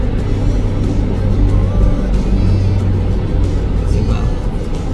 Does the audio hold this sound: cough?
no